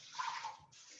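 Water gushes in a Thermomix TM6 bowl during a quick rinse: a loud, close splashing rush that cuts briefly and resumes, with no voices.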